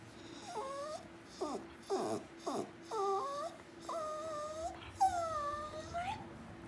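Unhappy dog clawing at someone's arm indoors, letting out a series of high, rising whimpers and whines in short bursts with pauses, close and fairly quiet, with a steady low hum behind.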